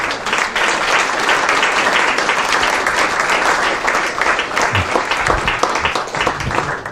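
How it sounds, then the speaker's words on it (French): Loud, dense applause from an audience honours architect Thomas Lavigne and his wife, a steady wash of many hands clapping close by for about seven seconds with no break. "Et on peut les applaudir, je pense."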